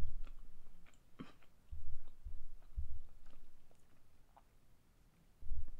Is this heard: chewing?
yes